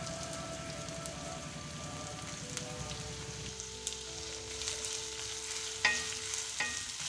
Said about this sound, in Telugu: కర్రీ లీవ్స్ మంచిగా వేగగానే ముందుగా రెడీ చేసుకున్న ఆనియన్ని యాడ్ చేసుకొని మంచిగా వేగించుకోవాలి